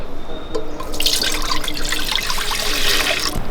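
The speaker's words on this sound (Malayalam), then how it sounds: "നെല്ലിക്ക ഉപ്പിലിടാൻ വേണ്ടി നമുക്ക് കുറച്ച് വെള്ളം വെച്ച് കൊടുക്കാം" Water runs from a tap into a pot for pickling gooseberries, a loud, close splashing stream that strengthens after a brief start and carries on steadily.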